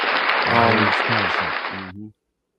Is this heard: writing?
no